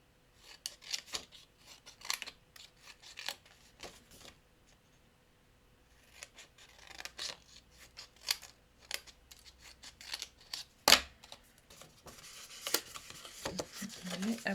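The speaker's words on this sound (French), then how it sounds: "Je coupe ma languette et je coupe en biseau" Scissors snip through paper tabs for an explosion box, cutting them at an angle, in a series of close, crisp clipping strokes with rustling paper between cuts and quieter pauses.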